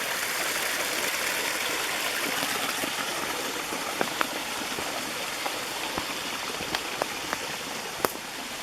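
Continuous rush of trickling water from a small cascade, steady and close, with occasional sharper drips and splashes standing out.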